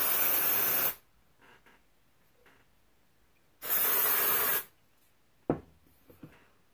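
Loma dry shampoo sprayed onto hair from an aerosol can, two close, loud hissing bursts of about a second each, separated by quiet, then a few light handling taps.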